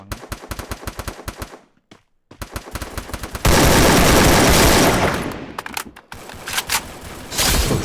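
Rapid automatic gunfire in the mobile battle game Free Fire, an enemy firing from a window, comes in loud dense bursts broken by brief silences, swelling into a sustained roar of shots.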